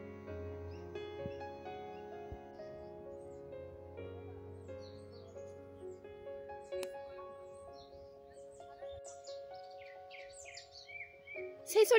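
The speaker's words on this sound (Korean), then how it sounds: "새소리 들어봐요." Small birds chirp and sing intermittently along a seaside walking trail on Gubongdo island in Ansan, moderately distant over a steady tonal background hum.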